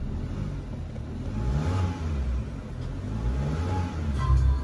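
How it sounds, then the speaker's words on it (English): A 2020 MG MG3 Core car engine idles low and steady, then rises in a couple of moderate revs, a close continuous mid-low rumble with no talking. "Give the car a quick start and also a rev."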